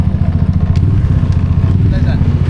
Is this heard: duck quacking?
no